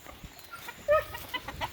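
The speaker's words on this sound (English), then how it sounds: "Chickens are looking good." Soft, brief clucking from a chicken, one slightly louder call near the middle, over faint background noise.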